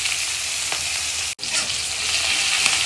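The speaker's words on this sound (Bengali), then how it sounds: "আর দিয়ে দেবো এখানে পেঁয়াজ, আদা বাটা আর কাঁচা লঙ্কা।" Onion, ginger paste and green chili frying in a kadai with black cumin already in the oil, a loud, dense sizzle close up with a brief break in the middle, with no talking.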